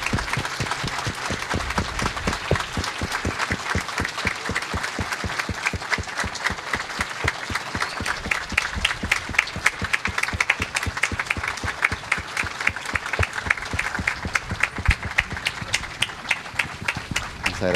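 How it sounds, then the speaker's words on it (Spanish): A crowd claps in strong, rhythmic unison for children who staged a nativity scene, the beats regular and driving, swelling slightly louder partway through and continuing steadily with no talk. "un fuerte aplauso?"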